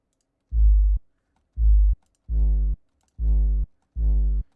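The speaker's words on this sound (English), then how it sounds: "Here's an example of the same 808 we have distorted." A heavily distorted 808 bass sample hits five times in a row, each a short, loud, booming burst with a gritty, buzzy edge. The hits are separated by silence, and the later ones sound brighter and harsher.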